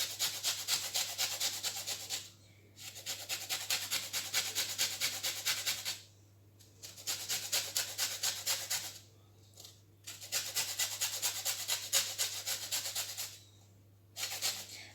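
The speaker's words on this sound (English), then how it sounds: "You need to zest 2 lemons for this mixture." Lemons are zested on a grater in rhythmic bursts of scraping, each a couple of seconds long with short pauses between, close and clear over a faint steady hum.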